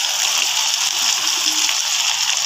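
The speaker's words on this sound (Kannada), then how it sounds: "ಇದಕ್ಕೆ ಕರಿಬೇಕಂತ ಆಲೂಗಡ್ಡೆಯನ್ನು ಹಾಕ್ಕೊಳ್ಳೋಣ." Potatoes go into hot oil for deep frying for potato manchurian, making a loud, steady, close bubbling hiss that holds without a break for a couple of seconds.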